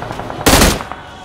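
In the BGMI mobile battle royale, a short sharp burst of gunfire cracks out loud and close, then fades quickly into quiet background.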